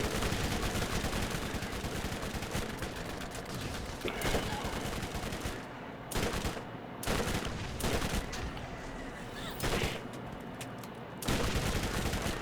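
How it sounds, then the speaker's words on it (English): Explosions and rapid gunfire in the Borderlands video game, dense, loud bursts of blasts and shooting in near-continuous volleys with a few brief lulls. "Where the hell are those explosions coming from?"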